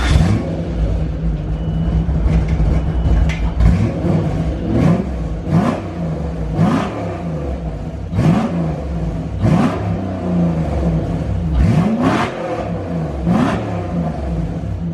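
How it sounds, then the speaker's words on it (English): Nissan 240SX engine with its muffler removed, idling and revving repeatedly in loud, close bursts that rise and fall in pitch over a steady rumbling idle, with no talking. "let's just go ahead and start this car up and see what it sounds like without the muffler"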